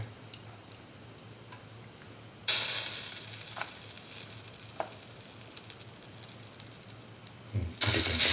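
A batter-dipped chayote slice, coated in chickpea flour batter, hits a hot pan and breaks into a loud, steady sizzle, followed by another surge of frying near the end.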